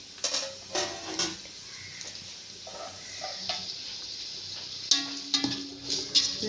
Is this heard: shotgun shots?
no